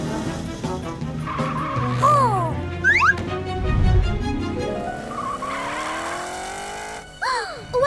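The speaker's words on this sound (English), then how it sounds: "Morph into a super-fast race car to catch Orphle!" A cartoon race car zooms and skids in a children's animated show, with rising engine sweeps and squealing tire swoops over background music, loud and close, ending with a burst of skidding.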